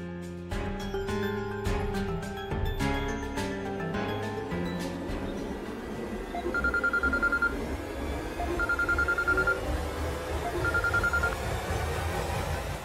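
A telephone ringing in a Marathi TV serial scene, three short repeated electronic ring bursts evenly spaced over background music, clear and fairly loud, no speech.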